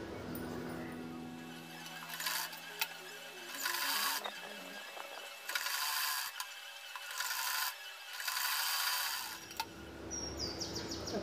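A sewing machine stitches the side seam of a skirt palazzo in bursts, its motor whirring in four or five runs separated by short pauses, with soft handling rubs between them; no one speaks.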